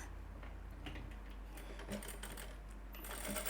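A sewing machine stitches along the folded edge of a garment, giving off a steady low mechanical hum with faint ticking and clicking from the needle over the top, and no one talking.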